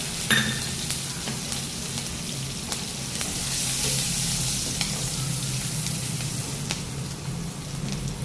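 Cumin seeds, asafoetida and chilies sizzle in hot oil over a gas flame, a steady close crackling fry that holds throughout with no voices.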